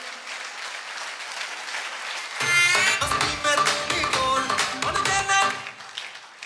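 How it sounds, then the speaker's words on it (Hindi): An audience at a Safe Shop network marketing event bursts into loud, dense applause after a quiet lead-in, with many hands clapping steadily for several seconds. "जोरदार ताली होनी चाहिए सर के लिए।"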